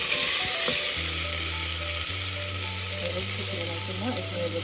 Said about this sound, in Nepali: अनि यसमा चाहिँ प्याज राख्छु